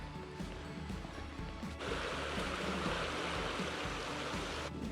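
Steady broadband rush of the River Tweed flowing beside a quiet walking path near Peebles in the Scottish Borders, a continuous gentle wash that grows slightly fuller partway through.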